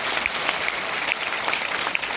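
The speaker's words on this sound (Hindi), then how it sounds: "एक जोरदार ताली" Brief burst of dense audience applause at a recognition-night event in Ranchi, steady and fairly loud throughout.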